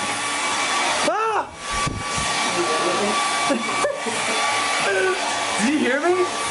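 A hair dryer roars steadily in a bathroom while voices cut in over it with a sudden shriek and a few short exclamations.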